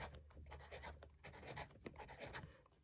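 Jinhao 992 fountain pen with a wet nib writing quickly on paper, a steady scratchy rustle with short stroke bursts, close and fairly quiet.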